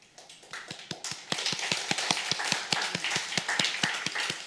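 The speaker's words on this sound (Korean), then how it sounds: "한 번 더 일어나실 때 큰 박수 부탁드립니다" A church congregation applauds during a Sunday worship service, a dense run of sharp hand claps that starts thin and swells into a steady, full round of clapping throughout.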